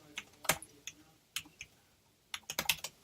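Bursts of typing on a computer keyboard while entering text in Photoshop CC 2018, quick clustered keystrokes in two or three flurries separated by short pauses, close and fairly quiet with no voice.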